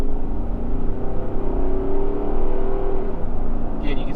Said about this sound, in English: we'll do a quick acceleration test onto the highway here